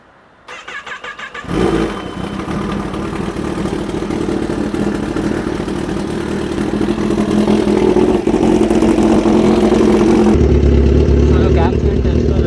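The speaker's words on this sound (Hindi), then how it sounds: "बाइक फायर अप करता हूँ, आपको अगर सुना सकता हूँ तो सुना दूंगा" A Kawasaki ZX10R superbike engine cranks and fires up, then settles into a loud, steady, close-up idle with a raspy mid-range drone. It runs continuously, with a slight rise in level toward the end.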